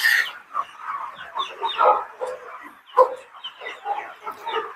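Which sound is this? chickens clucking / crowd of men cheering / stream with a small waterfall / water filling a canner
chickens clucking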